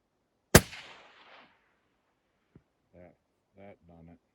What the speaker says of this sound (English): You got a clear shot.